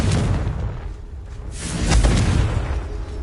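In Hogwarts Legacy, the Confringo blasting spell makes loud booming explosions: a heavy blast at the start, a lull, then a second rolling detonation with a whooshing rush.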